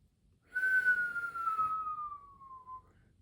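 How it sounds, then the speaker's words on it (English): A person whistles one long note that slides slowly downward in pitch, clear and fairly close, lasting a couple of seconds before fading out, with no other sounds around it. "Peter whistled."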